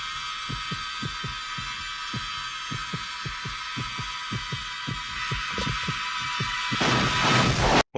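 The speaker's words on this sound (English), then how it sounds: "I like the heartbeat in the background." A steady heartbeat throbs in the background of a scene from the 1986 war film Platoon, with a regular thump-thump pulse that continues under a droning hum before swelling into a louder, noisy burst near the end.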